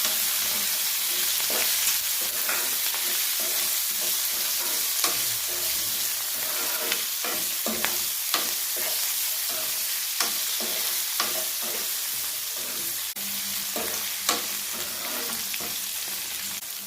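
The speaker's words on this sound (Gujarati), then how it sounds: "સાથે જ આપણે જે મરચાં કટ કરીને રાખ્યા છે તે એડ કરી દઈશું। સારી રીતે મિક્સ કરી લઈશું।" Green chillies fry in hot oil with mustard seeds, cumin, fennel and asafoetida, giving a steady close sizzle broken by repeated scraping stirs of a spoon against the pan.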